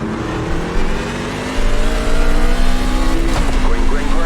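Several race trucks, Ford F150s at Dover Motor Speedway in iRacing, roar and rev up together at the green flag, the engine drone getting louder partway through with a rising pitch sweep near the end while a voice talks over it.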